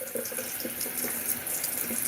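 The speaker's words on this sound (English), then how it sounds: "Just getting water for the birds." Tap water runs steadily from a faucet while a container is filled with drinking water for birds on a farm, a continuous close splashing stream with no talking.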